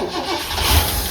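A 1967 Ford Mustang engine with a carburetor on choke cranks and catches in a brief, close burst, rising into a rough rumble.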